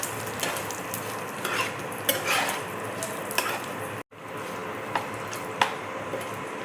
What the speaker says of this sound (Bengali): এবার দেখো কিশমিশ দিয়ে দিচ্ছি।